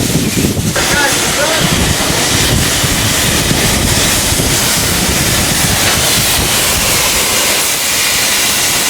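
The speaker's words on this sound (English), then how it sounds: "The wind is going." Strong wind roars across the microphone at the top of Sydney's Centrepoint Tower, a loud, steady buffeting rush filling the whole stretch, with brief talk buried in it near the start.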